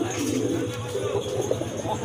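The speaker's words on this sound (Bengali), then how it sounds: "ডাকটা নরের কিরকম ডাকে দেখুন।" A male pigeon coos in low, throaty pulses at close range among pigeons offered for sale, with a voice talking over it.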